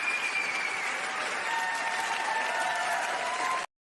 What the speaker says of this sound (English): I had to give you a round of applause for that